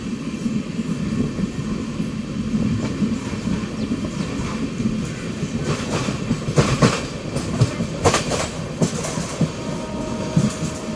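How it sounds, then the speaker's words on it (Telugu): An Amrit Bharat train pulls out of Thrissur station after a halt, with a steady rumble and rattle from inside the coach and clickety-clack wheel beats that come through more sharply in the later seconds. "ఇక్కడ ఒక 8 నిమిషాల హాల్ట్ తర్వాత మన ట్రైన్ తిరిగి బయలుదేరింది."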